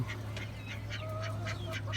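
Ducks kept on a rooftop quack in a steady series of short calls over a constant low hum, fairly faint and at a slight distance.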